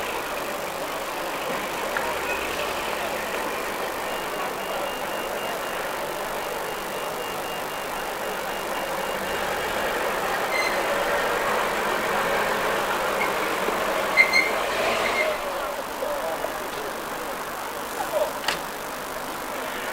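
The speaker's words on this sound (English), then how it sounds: "That's number 43 coming in now, an Atkinson Borderer Mark 1 in the livery of R.W. Morris, vehicle dating from 1972." A 1972 Atkinson Borderer Mark 1 lorry in R.W. Morris livery arrives at a road run, its steady engine rumble and idle holding throughout over a busy outdoor background, with a few brief clanks near the end.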